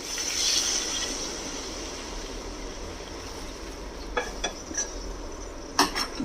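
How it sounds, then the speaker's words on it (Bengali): Hot water is poured into a pan of Bengali pabda fish curry with soft ridge gourd and fried spices. A steady rushing gush runs throughout, and a few light clinks of metal on the pan come near the end. "এবারে এটাতে দিয়ে দেবো গরম জল"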